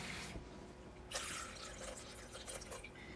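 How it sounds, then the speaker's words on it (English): Warm water poured into a container to weigh it out for sourdough, a steady close liquid stream with dripping and splashing throughout. "we are going to first start out with 350 grams of warm water."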